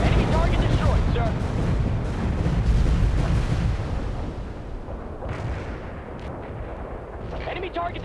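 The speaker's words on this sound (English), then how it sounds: "We're dropping our payload. Take cover down there." Bomb payload explosions in the 2007 real-time strategy game World in Conflict: dense, loud, rolling booms and rumbling blasts that overlap continuously for about five seconds, then ease into a lower, sustained rumble with scattered sharper cracks.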